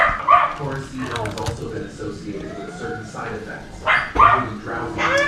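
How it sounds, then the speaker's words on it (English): Several dogs bark and yip excitedly in bursts, close by, with some whimpering mixed in, outdoors while crabbing on the Dawesville Cut, Western Australia. "As you can hear, the dogs are hungry in the background."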